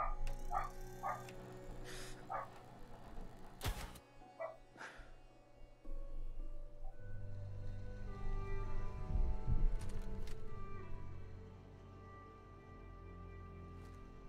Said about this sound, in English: Ye dogs be crazy.